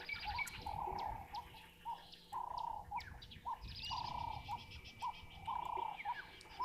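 Outdoors, a tree squirrel gives faint bursts of chattering that repeat in a steady rhythm, with birdcalls and chirps scattered around it.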